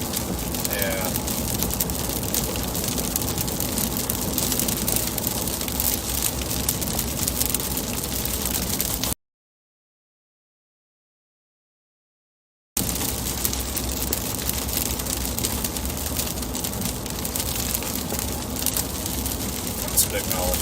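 Monsoon rain while driving toward Phoenix, Arizona, makes a steady, dense hiss of drops drumming on a moving car alongside road noise, continuous apart from a brief gap of total silence midway.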